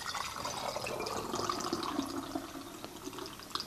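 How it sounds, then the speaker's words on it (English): Water poured from a container onto white salt powder in a small vessel for a solubility demonstration, a soft continuous trickling and splashing stream, quiet and close, with no talk. "I'm going to pour some water into it, shake it, and then set it aside."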